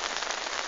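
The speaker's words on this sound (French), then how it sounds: "La pluie, il pleut." Steady rain patters on a surface in a dense, even hiss, close and continuous, on a day after a Paris heatwave.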